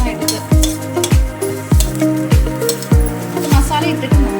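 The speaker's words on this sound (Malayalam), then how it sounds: "അതിൽ ആഡ് ചെയ്തിട്ട് നമ്മൾ നന്നായിട്ട് ഇളക്കി കൊടുക്കാം" A spoon stirs masala for veg pulav in a cooking pan, scraping in regular strokes about every half second over a continuous sizzle, close and fairly loud.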